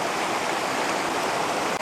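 A waterfall pours in a continuous broad hiss of rushing water, steady and fairly close, with no pauses or other sounds.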